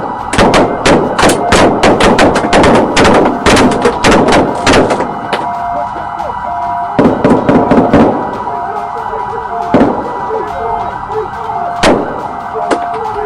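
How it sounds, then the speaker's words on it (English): Gunfire in a police shootout involving eight police cars: dense bursts of loud, sharp shots at the start, then scattered single cracks spaced a few seconds apart, over a constant background of siren-like tones. "As the final gunshot faded"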